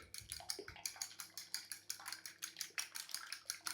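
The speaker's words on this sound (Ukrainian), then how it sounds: "Гарно все перемішую." Rapid, steady whisking as a utensil clinks and scrapes against a bowl, beating eggs seasoned with salt and black pepper in an even rhythm, close by.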